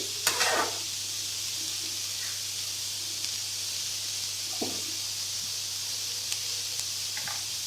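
Snake gourd pieces frying in oil in a pan, a steady soft sizzle with a few light stirring clinks and scrapes at moments, heard alone without any voices.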